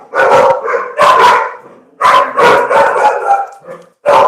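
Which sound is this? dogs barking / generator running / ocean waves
dogs barking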